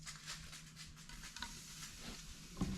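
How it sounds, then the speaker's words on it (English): Acetone poured onto foam fizzes and sizzles with a faint, steady crackling hiss, scattered soft pops and a small clack near the end, heard up close with no talking. "got this acetone and I got this foam, and it sure does make it sizzle."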